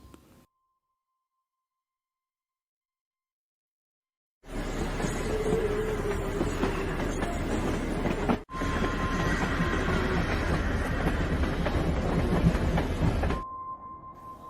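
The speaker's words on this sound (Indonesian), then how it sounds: "Saras pun nekat naik kereta sendirian untuk mendatangi Adit yang ada di Bandung" A train rolls along the rails with a steady, loud rumble and rattling, preceded by silence, with a brief break midway and a faint tone near the end.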